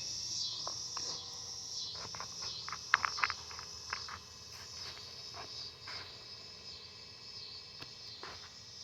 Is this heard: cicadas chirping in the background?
yes